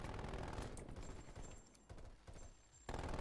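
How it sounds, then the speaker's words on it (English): Triple-burst gunfire in the video game Call of Duty Cold War, with dense rapid shots, then several short bursts separated by brief pauses, all loud and near. "Made it a triple shot just because it is a powerful gun."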